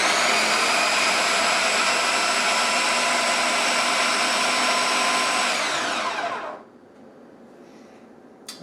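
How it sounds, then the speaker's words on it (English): A kitchen blender mixes dry pizza dough ingredients for a garlic stuffed crust pizza, a loud steady motor whine running about six seconds before it winds down and stops, leaving near silence. "We're just going to give it a little bit of a blend, like I said, to make sure all the ingredients have been mixed together."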